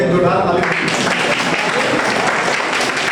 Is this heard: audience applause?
yes